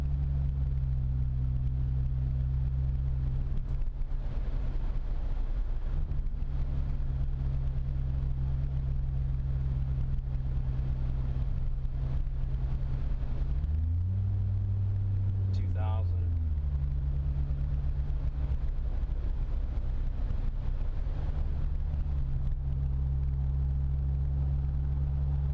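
A Ford Fusion Sport with a resonator delete drives through the city, its exhaust holding a steady low drone from inside the car. The revs rise and fall once midway, and faint talk is heard underneath.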